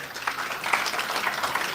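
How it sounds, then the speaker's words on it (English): A town hall crowd applauds the communications team, a dense, steady wash of clapping filling the room for under two seconds at moderate volume with no voices on top. "Give her a round of applause"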